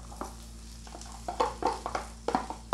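Onion and garlic go into hot oil in a pan, giving a soft sizzle with several brief stirring scrapes and clatters spread across a few seconds, close by and with no talking.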